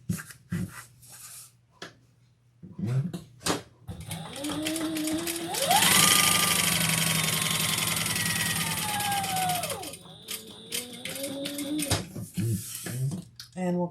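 A sewing machine top stitches a leather and vinyl crossbody bag in one sustained whirring run of several seconds, with shorter mechanical bursts before and after and speech in between.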